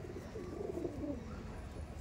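A home-bred female pigeon coos softly nearby, a short low burbling call repeated over about two seconds against faint room noise.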